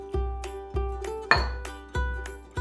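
Flour and salt go into a stand mixer bowl, heard as a spoon striking the metal rim with about five evenly spaced, ringing clinks, loud and close, with no talking.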